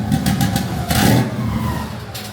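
A big single-turbo VQ37HR engine fitted in a Nissan Patrol drift build runs rough just after firing, a loud close mechanical roar with a rising surge near the middle and steady clattering throughout.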